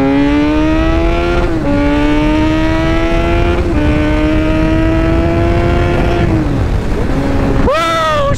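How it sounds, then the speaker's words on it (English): A naked street motorcycle accelerating on a highway, its engine note climbing steadily through several gears with brief dips at each shift, loud and close, ending in a sharp rev near the end. "Dude, she still rips on the highway,"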